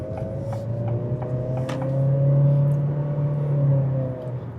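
A 2026 Acura ADX with a CVT transmission accelerating from inside the cabin, a steady rising engine drone that swells in the middle and holds an even pitch without gear shifts, with light road noise and no talking.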